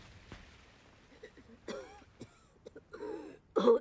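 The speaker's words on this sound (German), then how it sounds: "Oh, der furchtbare Husten." A person coughing and clearing the throat in short, harsh bursts, close and fairly quiet, with a louder rough cough near the end.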